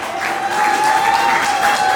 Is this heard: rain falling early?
no